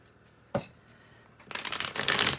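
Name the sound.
tarot cards being shuffled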